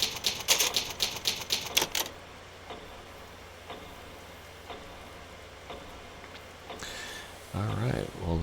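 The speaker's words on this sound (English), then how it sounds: "So today is a definite use of this typewriter." Rapid mechanical typewriter clacks from the Resident Evil save typewriter, about a dozen keystrokes in a quick burst, then quieter ticking and a brief chime-like sound near the end.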